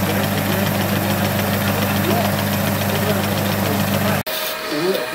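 Mamod model steam engine running at a charity steam event in a village hall, giving a steady, continuous mechanical chugging hum with a brief dropout near the end, with people talking around it.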